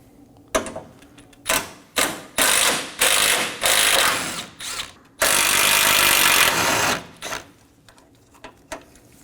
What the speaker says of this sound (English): Now I'm going to go ahead and remove my two 8mm bolts.